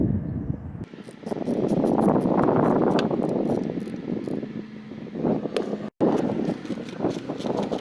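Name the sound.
wind outdoors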